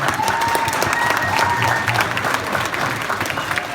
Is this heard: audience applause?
yes